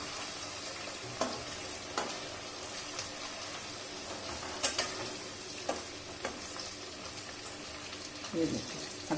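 Stuffed okra sizzles and fries in hot oil and ghee over a low flame, a steady crackling hiss with occasional stirring clinks, while someone talks over it.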